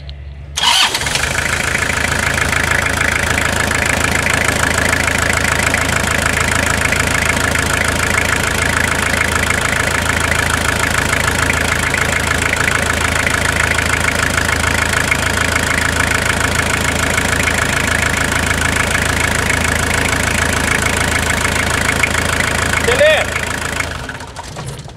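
A Toyota Hilux SR engine idles steadily and loudly at close range for the whole stretch, with a constant mechanical hum and chatter and no break.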